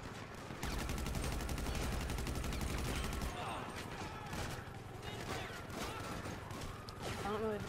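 Gunfire in the video game Grand Theft Auto: a rapid automatic burst of evenly spaced shots lasting about three seconds, then a busier jumble of game noise with a voice talking.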